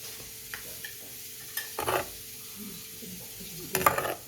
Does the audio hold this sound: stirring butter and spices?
yes